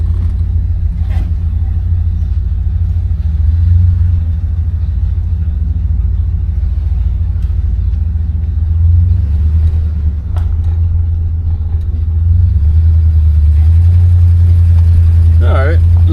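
A 1966 Oldsmobile Ninety-eight on the move, its engine giving a steady, close, low rumbling drone throughout, with someone talking over it at times.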